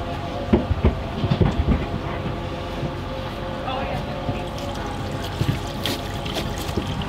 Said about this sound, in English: So I'm gonna pull it and it should flush my entire hose and it should be nice and clean